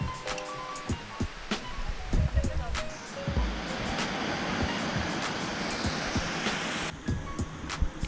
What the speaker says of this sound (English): You will begin to hear the sounds of falling water, and then Shiraito Waterfall should come into view.